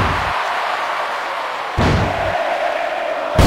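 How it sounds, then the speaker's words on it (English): Arena crowd in the WWE Mayhem wrestling video game, a steady roaring din with sharp thuds and a sudden surge in loudness partway through. "Oh, do you hear that crowd?"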